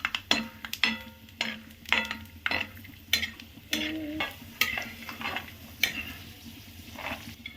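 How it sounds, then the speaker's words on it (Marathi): Peanuts dry-roasting in a pan, stirred with a spatula that scrapes and taps the metal in repeated strokes about every half second, with a soft crackle between strokes and no talking. "शेंगदाणा आपण भाजून घ्यायचं"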